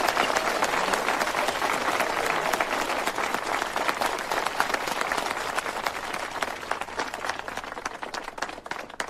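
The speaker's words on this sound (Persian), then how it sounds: "پس تشویقش کنید حسابی." An audience applauds loudly and continuously, a dense crowd of clapping hands that stays even and sustained throughout.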